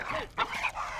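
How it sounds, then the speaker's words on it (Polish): Boxer dogs in a fight, giving short yelping and whimpering cries with a sharper burst near the middle, close and fairly loud over a dense scuffling background. "Gdy nasze psy zaczęły walczyć"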